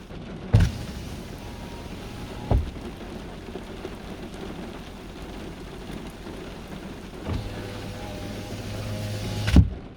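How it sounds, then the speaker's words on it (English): Steady heavy rain hisses continuously, broken by a few loud thumps and a brief mechanical whir before a final knock. "It is absolutely pissing down."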